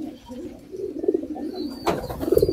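Domestic racing pigeons cooing close by in a loft during very hot weather, soft low throaty coos rising in several bursts over quiet background noise.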